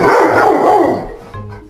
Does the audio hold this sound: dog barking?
yes